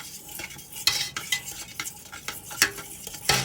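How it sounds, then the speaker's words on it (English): A potato masher stirs boiling strawberry lemon marmalade, making close, repeated wet scraping and clinking strokes against the pot at an uneven rhythm over a bubbling sizzle. "it's just a potato masher, but it works for a whisk too"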